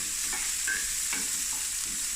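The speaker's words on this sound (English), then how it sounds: "on a medium heat, just fry these onions" Onions and garlic fry in a pan over medium heat, giving a steady bright sizzle with a few soft stirring scrapes and no talking.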